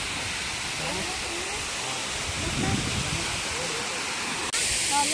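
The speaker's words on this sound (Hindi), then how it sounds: "और ये देखिए सुंदर सा नजारा वाटरफॉल का" Mountain waterfall near Munsiyari in Uttarakhand, pouring over large boulders, heard as a steady broadband rush that fills the whole clip at an even loudness, with no voices over it.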